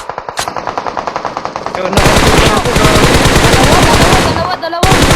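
Automatic gunfire from a weapon in a shooter video game, rapid loud bursts first spaced in a quick rhythm, then a dense continuous stream, with a player speaking briefly over it.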